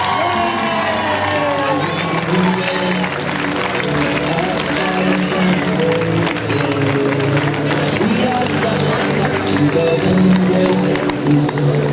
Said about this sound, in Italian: Signore e signori, un applauso per la contrada di Somaville.